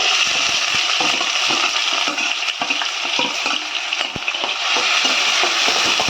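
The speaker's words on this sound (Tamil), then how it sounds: "இந்த மாதிரி நல்லா பொன் நேரமாக வதக்கிக்கலாம்" Onions with fennel seeds sizzle steadily in hot oil in a pan for egg chukka, with close, continuous frying crackle and occasional stirring scrapes throughout.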